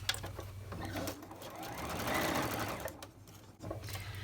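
A sewing machine stitches string blocks in a continuous close whir, with the pace shifting slightly and a brief pause near the end.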